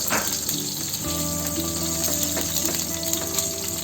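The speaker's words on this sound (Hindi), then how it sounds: "हमने यहाँ 2 मीडियम साइज के प्याज रखे हुए हैं रफली चॉप करके, वो इसमें डाल देंगे।" Two medium, roughly chopped onions drop into hot oil for a restaurant-style malai kofta gravy, setting off a steady, close frying sizzle with a low hum beneath it, and no talking.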